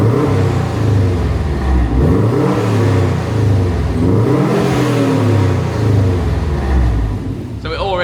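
A stock Subaru WRX STI exhaust revs steadily with a deep, rumbling engine note that rises and falls, loud and close for several seconds.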